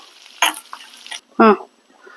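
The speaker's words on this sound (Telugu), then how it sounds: "ఇంగు వేసేసి పోపు వేసేసుకోవడమే" A brief burst of hissing as asafoetida hits hot oil for a tempering, followed by a short voiced sound, with quiet gaps in between.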